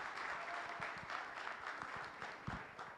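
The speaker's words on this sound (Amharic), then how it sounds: "አንድ ጊዜ ጭብጨባ" An audience at a DMV for Dessie community event applauds with dense, continuous clapping that sounds moderately distant and steady for the whole stretch.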